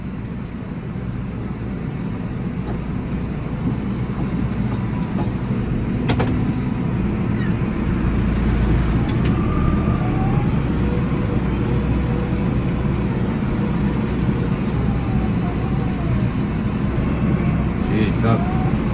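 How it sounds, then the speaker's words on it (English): A vehicle engine drones steadily and loudly while it drives into a farm field and reverses, the rumble continuous, with a person talking over it. "So I have to drive in, reverse up, and go around that way."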